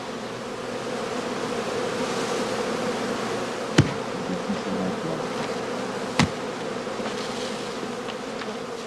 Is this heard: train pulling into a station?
no